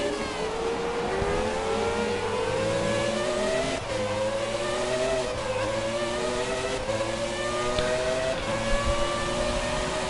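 Williams Formula racing cars whine continuously around the Monaco circuit in a racing video game, engines rising and falling through gear changes, with several high-pitched motors layered together in a steady, loud drone.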